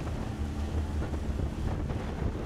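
Steady wind blows across open water on Lake Carnegie during a rowing race, a loud, continuous rushing roar with low buffeting rumble against the microphone, no talking.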